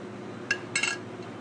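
The back of a metal spoon presses fried Tabasco-cheese grit cakes down in a pan, making two short clinks against the metal over a steady low background hum.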